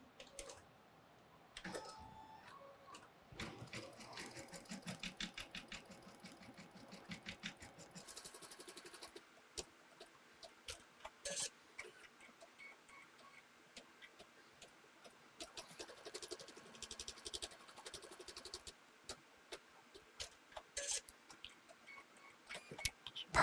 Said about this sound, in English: Now the first thing the embroidery stitch will do is stitch out a placement stitch